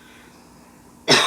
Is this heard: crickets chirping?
no